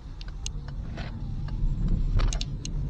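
Car shifted into drive pulling away as the handbrake releases on its own, a low steady mechanical hum with a few faint clicks and rattles, no voices.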